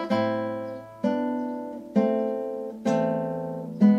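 Classical guitar plays the opening of Fernando Sor's Etude No. 3, Op. 35: five plucked chords in a dotted rhythm, each ringing and fading before the next, clear and close, with no voices.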